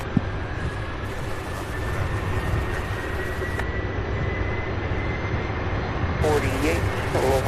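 A heavy Airbus jet airliner rumbles on the airport runway with a steady, broad engine roar and a faint whine, continuous throughout.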